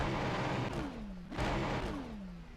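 A Ferrari 296 GT3 engine in the iRacing video game revs up through the gears, two rising pulls each ending in a shift, loud and close with no talking.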